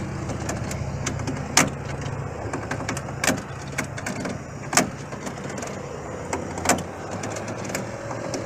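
Overheated vehicle engine with a hose overflowing, giving a steady hiss and rumble at moderate level, broken by sharp periodic clicks or pops about every one to two seconds.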